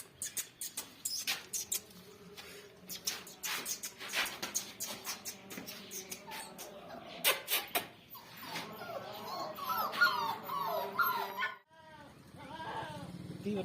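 Young Bully puppies whimper and squeal in rapid, high-pitched bursts, close and fairly loud, with murmuring voices in the background and a softer run of whines toward the end.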